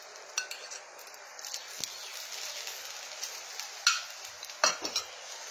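A paratha stuffed with Amul paneer and cheese roasting in ghee and butter on a pan, a soft steady sizzle close by, broken by occasional clinks and scrapes of a utensil against the pan.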